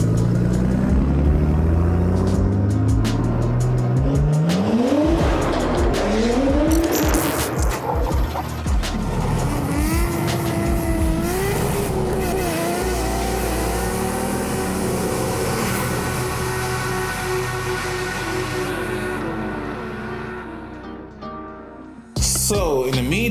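A Nissan R33 fitted with an ISR Performance downpipe and a Tomei Expreme Ti titanium test pipe exhaust rumbles loudly up close, with rising rev sweeps early on over a steady, throaty drone that cuts off abruptly near the end.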